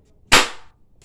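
A spring-powered single-shot BB gun fires once: a sharp, close pop with a short fading hiss, followed by a faint small tick moments later.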